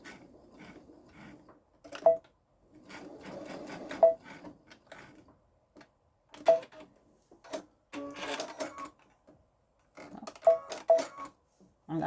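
A Babylock Solaris sewing machine back stitching while quilting a pillow front, giving short bursts of rapid mechanical stitching separated by pauses, close and fairly quiet.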